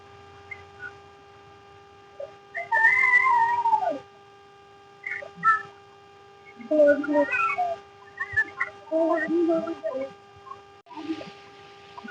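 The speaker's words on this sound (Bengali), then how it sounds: "আপনারা নিশ্চয়ই পাখির কিচিরমিচির শুনতে পাচ্ছেন," Caged birds at an aviary in a Chandigarh bird park give bursts of chirping and whistled calls, some near and loud, others softer, scattered through the clip with short gaps between them.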